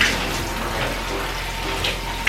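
Shower water runs as conditioner is rinsed out of hair in a bathroom, a loud, continuous close hiss and splatter with no speech.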